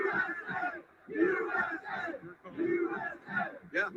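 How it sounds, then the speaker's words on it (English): Energetic protest crowd near the White House shouting in loud, rhythmic bursts of massed voices, rising and falling in waves with brief pauses between chants. "It's a very energetic crowd."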